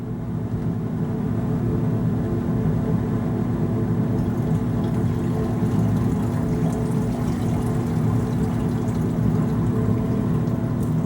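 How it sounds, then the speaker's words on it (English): Distilled water rinsing down glass beakers, a steady continuous wash with a low rumbling hum throughout and no pauses. "Rinse them down with a little distilled water."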